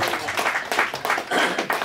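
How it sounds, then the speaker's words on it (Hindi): An audience at a gathering breaks into steady, dense applause, many hands clapping together, fairly loud and sustained with no pauses. "ऑडियंस के लिए सबसे ज्यादा तालियां"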